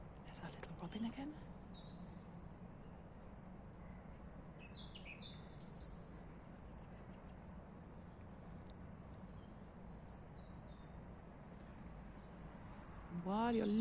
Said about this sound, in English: There's our little robin again.